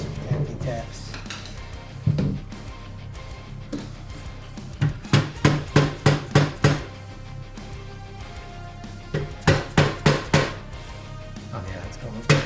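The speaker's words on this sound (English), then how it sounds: "Give it a couple of taps" Metallic taps driving a part into a Yamaha YFZ450R ATV, sharp hammer-like knocks coming in quick clustered bursts of five or six, fairly loud and close, with a brief murmur of voices between them.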